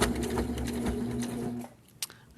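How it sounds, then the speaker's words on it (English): A sewing machine stitching over a seam on a grocery bag holder, a close steady mechanical whir that stops near the end, followed by a brief click. "I'm going to sew it over again because this will have some weight on it."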